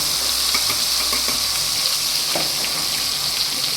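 Garlic and chopped tomato sizzle in hot oil for a Gujarati cabbage curry, a steady, close frying hiss with light stirring and scraping throughout, no voices.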